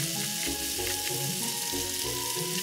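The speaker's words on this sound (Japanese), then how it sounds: "この日も卵をシートに包んで焼きます。" An egg wrapped in a cooking sheet sizzles in a frying pan for a bento lunch, a steady close hiss beneath faint background music.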